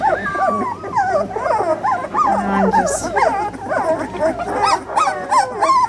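Several two-week-old puppies whimper and yip in high, wavering cries, close and continuous, overlapping one another.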